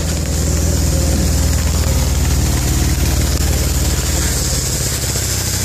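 A 1988 Mercedes E 300 engine idles steadily with an exhaust leak, giving a continuous low rumble with a faint raspy chuff over a broad hiss, close and constant throughout with no talking.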